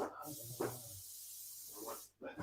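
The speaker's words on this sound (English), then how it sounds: "I'm coming through with a spray. I'm spraying." An aerosol spray can hisses in a steady, fairly loud burst for well over a second, stops briefly, then starts again, with a voice heard nearby.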